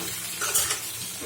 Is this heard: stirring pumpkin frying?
yes